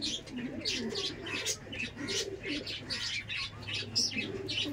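An Andhra pigeon coos softly and repeatedly at close range, with light chirps and a faint flutter over a quiet room background.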